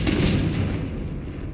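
A Confringo spell explosion in Hogwarts Legacy, a loud close burst at the start that rumbles and decays over the next second without any voice over it.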